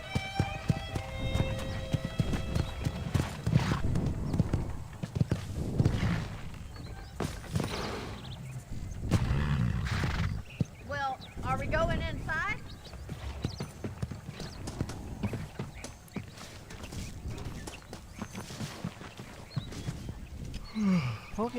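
A horse ridden in Red Dead Redemption clip-clops in a steady, close hoofbeat rhythm, with a whinny and snorts breaking in, while voices talk over the riding at times.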